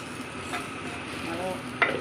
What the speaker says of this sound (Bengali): মেখে রাখা মাংসগুলো একটু নাড়াচাড়া করতেছি